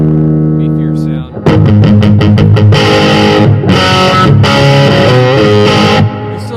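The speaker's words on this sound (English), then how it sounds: "I can turn this on, and the bass amp becomes dirty. It gives it a beefier sound." A bass amp driven through a distortion effect starts as a sustained dirty tone, then plays a loud, gritty run of repeated notes, close and saturated.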